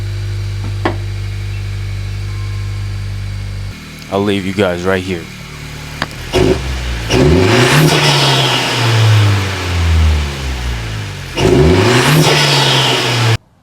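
A Honda Civic Si engine idles, then revs and pulls away as the car drives down off ramps, loud and close, with someone talking over parts of it.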